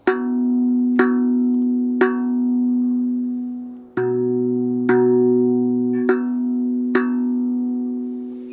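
A Rav Vast tongue drum is struck about eight times at a slow, steady pace, each strike muted by a finger on the center of the V, leaving a bright, bell-like harmonic ringing over a sustained low tone.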